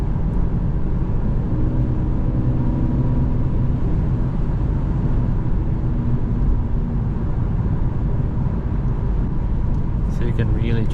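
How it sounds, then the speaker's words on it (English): A Mercedes C-Class cruises on the motorway at about 130 km/h and around 1,600 rpm, making a steady low rumble of engine and road noise under a voice that talks throughout. "You can really just cruise and then push the throttle, put it to Sport Plus"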